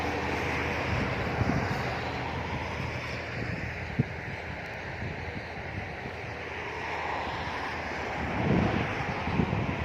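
Wind blowing outdoors during winter-season kite flying with a 180 cm Chula kite, a steady broad rushing roar against the microphone, with faint scattered knocks and a slight swell near the end and no talk.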